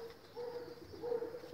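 Soft, low cooing from pigeons, two drawn-out calls a moment apart, fairly quiet.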